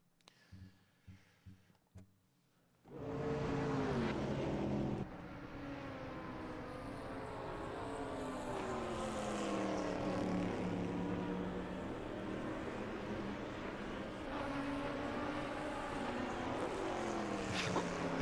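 A V8 race car engine in Automobilista 2, heard from outside, starts with a few short clicks and then roars up as a steady, droning tone that rises and falls in pitch with the revs.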